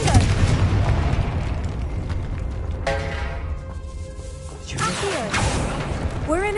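Inside a tomb near an altar in Hogwarts Legacy, a Confringo spell detonates with a heavy boom, followed by crashing debris, a quieter stretch with a ringing drone, and then further bursts and sharp pops.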